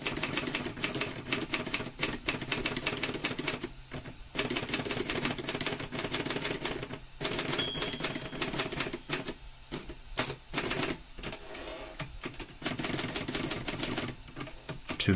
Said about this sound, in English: So now we're going to do two carriage returns and type our final line.